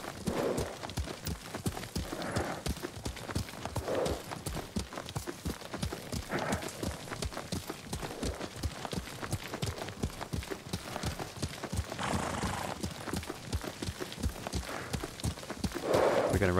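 A horse gallops steadily in the video game Ghost of Tsushima, its hooves pounding in a fast, even rhythm, with a faint snort now and then.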